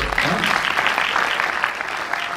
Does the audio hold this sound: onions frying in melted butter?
no